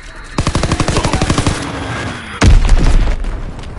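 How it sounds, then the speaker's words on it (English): A rapid, loud burst of automatic fire is followed by a heavy booming explosion as a Fritz X bomb drops and detonates in a PS4 game, with the blast tailing off into rumble. "Dropping Fritz X bomb"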